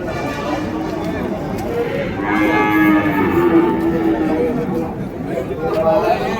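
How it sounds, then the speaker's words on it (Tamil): A pair of Holstein Friesian calves at a busy cattle market, with a drawn-out, fairly close moo rising over a steady murmur of people talking and livestock bustle around it. "இங்கே ஒரு ஜோடி HF கண்ணுங்க."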